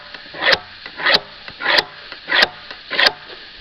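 A titanium carbide pin rasps along a chainsaw blade edge to remove the burr, making five evenly spaced scraping strokes, each swelling and fading, close and fairly loud with no talk.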